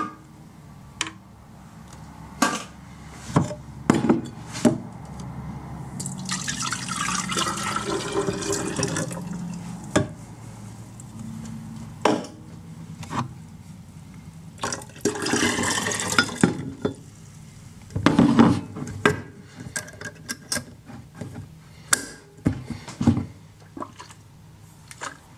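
Dishes being washed under running water in a home kitchen, with bursts of water flow, clinks of glass and dishware, and scattered knocks and splashes over a faint background hum.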